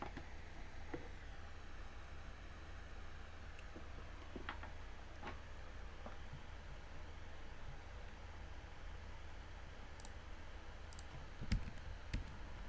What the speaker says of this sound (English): normally typing it.